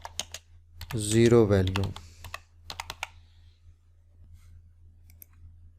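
Typing on a computer keyboard while entering a formula in Excel: scattered quick key clicks, close and fairly quiet, with a brief spoken phrase near the start and a steady low hum underneath.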